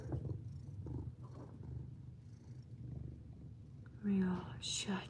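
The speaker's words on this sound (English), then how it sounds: "Can you hear the purr?" A cat purrs close up as a low, steady rumbling that swells and fades, with soft talk over it and a brief clatter near the end in a kitchen.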